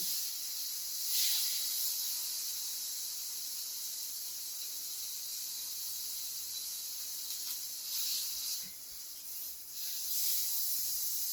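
Rouladen beef searing in a nice hot pan gives off a steady, close sizzling hiss that swells briefly a few times, with no voices.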